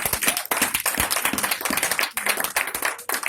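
A church congregation clapping and cheering for the Lord, dense, irregular rapid claps filling the space without pause, close and loud throughout.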